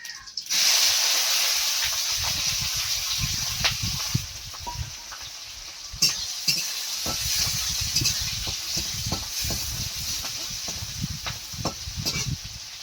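Five-spice seeds with chopped onion, green chili and garlic frying in hot oil in a wok, a steady loud sizzle and hiss with crackling pops throughout, no voices.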